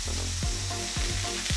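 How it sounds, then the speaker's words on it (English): Ribeye steak sizzling loudly in a hot pan, a close, dense frying hiss that continues throughout, broken by a few low scraping thumps. "place it into a hot pan, and we want to hear that sound."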